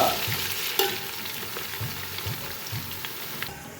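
Country chicken curry with ginger-garlic paste sizzling steadily in a pan as green chilies go in, a close, even frying crackle with a sharp clink and light stirring scrapes.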